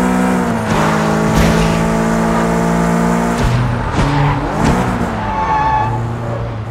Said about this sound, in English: Why does this taxi sound like a flipping race car?